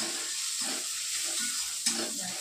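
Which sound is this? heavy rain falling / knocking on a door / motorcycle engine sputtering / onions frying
onions frying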